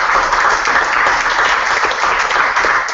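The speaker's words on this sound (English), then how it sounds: "if we could just get a round of applause for our 3 panelists tonight." An evening panel audience gives a round of applause for three panelists: steady, dense clapping from a crowd that fills the whole short stretch at an even, fairly loud level.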